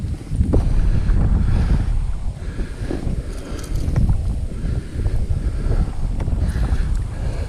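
Strong gusting wind roars across a lake past a fishing boat, rising and falling in heavy buffeting waves against the microphone, with faint water slaps underneath and no voices.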